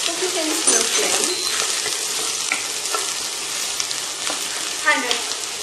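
Chopped onion frying gently with curry leaves over a low flame, a steady soft sizzle running throughout with faint scattered pops, close and even.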